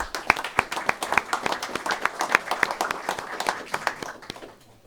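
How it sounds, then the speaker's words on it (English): A round of applause for kids at a small business pitch competition, with individual hand claps sharp and distinct rather than a dense roar, tapering off to quiet at the end. "So if we can give those kids a round of applause"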